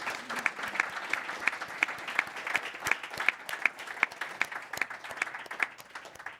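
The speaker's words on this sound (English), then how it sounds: "So let's give them a real big hand of applause for all their work" An audience at a conservation technology conference claps for the panelists, a scattered but steady run of distinct handclaps from a modest crowd, fairly clear and without talk.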